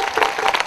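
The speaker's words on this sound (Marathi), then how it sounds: "टाळ्या वाजवा।" Applause from a village audience at an open-air Marathi prabodhan gathering with khanjiri playing: a brief, dense, steady wash of many hands clapping, fairly close and loud, with no voices over it.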